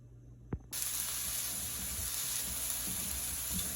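Homemade hamburger patties fry in a pan after being flipped, giving a steady, close, loud sizzle that bursts in suddenly after a brief knock and holds evenly to the end.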